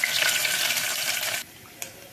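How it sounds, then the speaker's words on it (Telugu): Onion sizzles in hot oil with cumin, mustard seeds and crushed garlic for a moringa leaf dal, a loud close hiss that drops off abruptly partway, followed by a faint tap. "ఉల్లిపాయ కొద్దిగా ఎర్రగా వేగాక"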